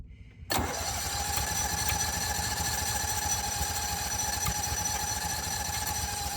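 ARGO 6x6 amphibious vehicle engine, an old barn find run without choke, catching after a brief crank and settling into a steady, loud, close idle that runs alone for several seconds.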